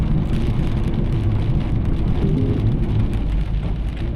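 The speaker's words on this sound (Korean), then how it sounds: "운전하는 내내 비가 내리다 말다 한다." Rain falls on a car driving through the Kent countryside in England on an autumn day, a dense continuous patter over a deep engine and road rumble, steady and close throughout.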